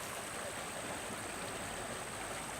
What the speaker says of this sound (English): Little stream coming out of here